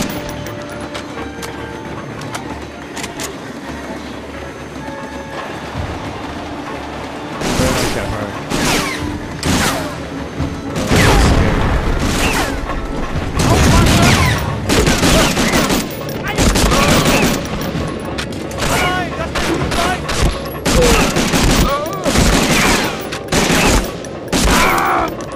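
Gunfire rattles in the PS2 video game Medal of Honor: Frontline, starting with quieter sporadic shots and a voice, then erupting into loud, rapid bursts of rifle and machine-gun fire mixed with crashes and booms.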